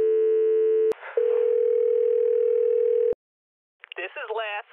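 A telephone dial tone follows a dropped call, a loud steady electronic hum that breaks off briefly, resumes, then cuts out, and a voice begins after a short silence.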